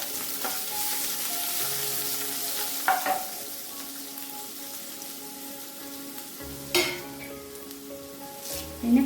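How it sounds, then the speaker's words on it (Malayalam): Pepper, cumin and crushed ginger sautéing in ghee, a soft continuous sizzle with occasional utensil clinks and stirring scrapes, moderately close and without voices. "ഇതെല്ലാം ഈ നെയ്യിലൊന്ന് വഴറ്റണം."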